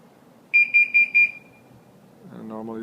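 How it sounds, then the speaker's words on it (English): A Scorpio R Link car alarm system beeps four times in quick, evenly spaced chirps, loud and close, then falls quiet before a voice begins speaking. "I'm gonna reactivate the alarm."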